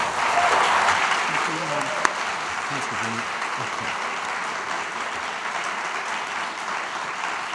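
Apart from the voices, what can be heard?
audience applause for panellists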